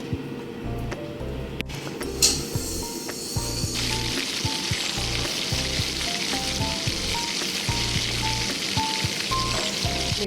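Kofta gravy bubbles in a pan, a steady close sizzling and popping hiss with faint irregular ticks and small bursts layered through it, continuing evenly without speech.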